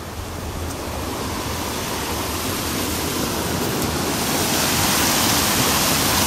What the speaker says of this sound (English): the water, yeah, it's pretty much coming down from the hill here